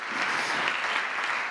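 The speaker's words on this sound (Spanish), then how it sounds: "Dele ese aplauso al Dios de la gloria." A church congregation applauds together in a dense, steady wash of clapping that holds evenly throughout.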